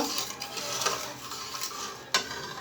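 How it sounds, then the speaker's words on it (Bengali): Sugar syrup with lemon juice for jalebi being stirred in a pan, a steady close scraping and clinking of a utensil against metal with a couple of sharper knocks, no talking. "এই সময় দিয়ে একটু নাড়াচাড়া করে নেব"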